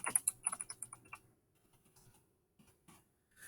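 Quick close clatter of typing on a computer keyboard, a dense run of keystrokes, then a few scattered taps after a pause, with no voices.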